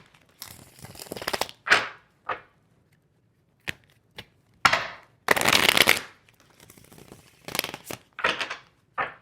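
Repeated bursts of oracle cards being shuffled and riffled, short papery rustles with pauses between, close and fairly quiet.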